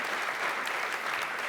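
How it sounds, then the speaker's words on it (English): A large crowd at an America's Cup sailing presentation claps continuously as the trophy is brought on stage, making a dense, even roar of hands throughout. "Please, let's clap her on stage,"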